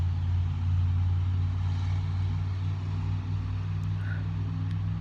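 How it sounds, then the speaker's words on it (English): A steady, low rumble of heavy engines runs throughout, fairly quiet and continuous, like loud trucks passing in the middle distance with no voices. "Man, I don't like loud trucks."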